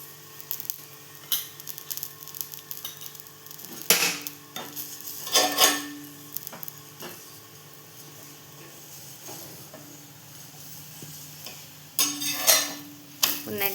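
Carrot paratha fries in oil on a pan with a soft steady sizzle, punctuated by a few sharp metallic clatters of a spatula or utensil against the pan.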